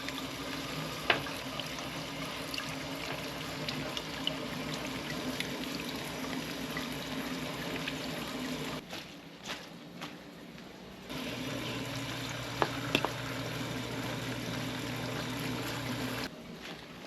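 Tap water runs steadily over freshly harvested basil and dill being rinsed, a continuous close splashing hiss that briefly thins out midway before resuming.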